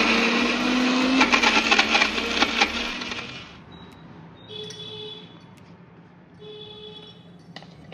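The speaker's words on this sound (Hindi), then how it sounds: "ग्राइंडर को बाटी दबा।" An electric kitchen grinder whirs loudly for about three seconds, grinding sweet corn for bada, then stops, leaving quieter clinks and faint background sounds.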